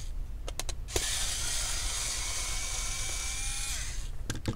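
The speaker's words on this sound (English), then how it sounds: "let's go ahead and remove some of the screw that is holding onto the CPU fan" Screws being removed from the CPU fan of an MSI GF63 Thin laptop: a few sharp clicks, then about three seconds of a steady motorized whir that drops in pitch as it ends, close up and with no talking.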